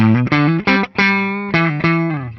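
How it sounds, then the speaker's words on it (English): Distorted electric guitar on an Epiphone Zephyr DeLuxe Regent's neck pickup plays a short run of loud, gritty sustained notes with a buzzy, saturated tone. "Neck pickup distorts really quickly."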